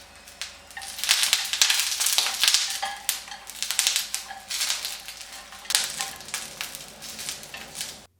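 Shishito peppers blistering in a hot pan, a crackling sizzle with scattered sharp pops and clatters as they are turned over, close and without talk.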